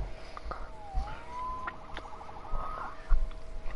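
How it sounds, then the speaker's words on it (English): A warbling police siren rises and falls through the Spider-Man PS4 game soundscape, moderately loud, with scattered soft thumps and background noise. "Saved by the siren."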